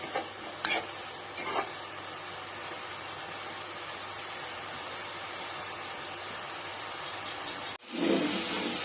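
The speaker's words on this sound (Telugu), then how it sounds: "ఇలాగే కలుపుకుంటూ ఉండాలండి, కింద మాడకుండా." Drumstick leaves frying in oil, stirred continuously in a pan so they do not burn at the bottom; a steady sizzle with scraping stir sounds, and a sharp knock near the end.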